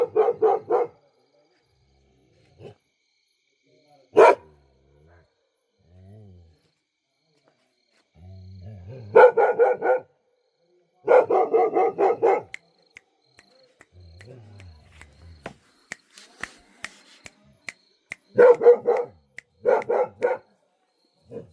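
Several separate bursts of sharp barking alarm calls from a barking deer at night in forest near a resort, some close and loud, others fainter, with quiet gaps of insect-like ambience between them.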